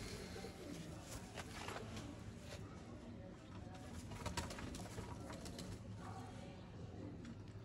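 A pigeon coos faintly among breeder's birds, soft low calls repeating over quiet background noise and light mechanical clicks.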